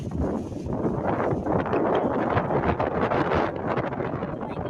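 Strong wind roars steadily and loudly across the microphone, a continuous buffeting rush with no pauses.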